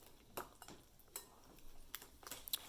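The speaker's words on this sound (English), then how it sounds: "just give it a light mix" Banana bread batter with egg and butter stirred lightly in a bowl: quiet, soft scraping punctuated by a handful of brief, light clinks of utensil against the dish, spaced irregularly.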